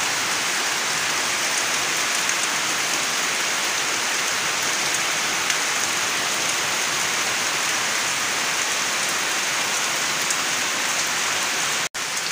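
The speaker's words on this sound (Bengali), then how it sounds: "রাত থেকে বৃষ্টি একটু একটু করে বৃষ্টি হইতেছে" Steady early-morning rain pours down without a break, a dense, even hiss of drops striking surfaces close by, with no voices.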